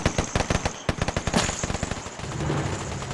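Rapid bursts of automatic gunfire from the mobile shooter game Standoff 2, a quick run of close, loud shots, a short pause, then another volley that trails into a lower steady rumble.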